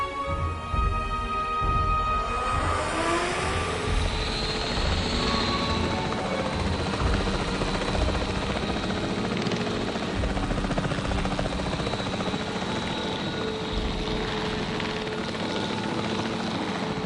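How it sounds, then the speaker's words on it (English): Capture team helicopter in Jurassic Park Evolution flying steadily, a loud continuous rotor thrum with a rising engine whine early on, with no talking. "The priority needs to be tranquilizing it with the capture team chopper."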